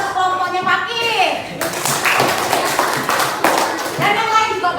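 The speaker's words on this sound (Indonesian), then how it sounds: "kasih tepuk tangan" A class of children claps for the best group in a classroom, a burst of brisk applause in the middle, with a teacher's voice and children talking before and after it.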